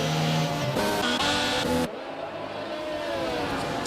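A race car engine in a sim racing game drops a gear early, the loud steady revving note jumping in pitch a couple of times before settling lower and quieter, with no voices.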